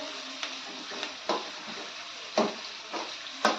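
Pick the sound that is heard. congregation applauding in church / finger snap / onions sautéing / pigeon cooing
onions sautéing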